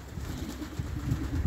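Low, soft cooing from a group of pigeons during feeding, a short run of throaty burbles at moderate level with no one talking.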